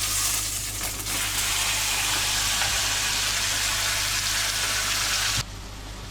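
Food sizzling steadily in a hot pan in a home kitchen in Japan, a continuous bright crackle with a low hum beneath, fairly close, cutting off abruptly near the end.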